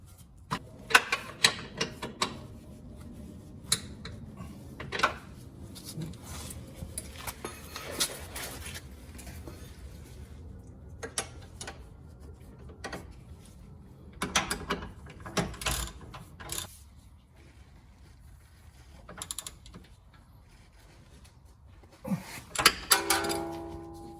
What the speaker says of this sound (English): ratchet wrench would come in super handy for this part.